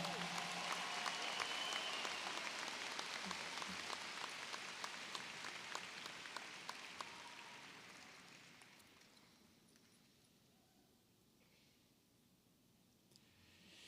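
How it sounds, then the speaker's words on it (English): A large audience at the Wando High School 2023 commencement ceremony claps, full applause for the first several seconds that gradually thins and fades into quiet room noise. "how about another round of applause?"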